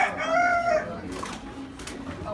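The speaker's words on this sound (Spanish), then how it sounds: "Estos son los gallos grandes que la gente anda buscando" A large rooster crows loudly nearby in a single drawn-out call that fades, followed by faint rustling and background noise.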